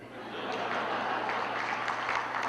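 An audience at a Hindi poetry recital in New Jersey breaks into sustained applause, a steady, even wash of clapping that runs without pause.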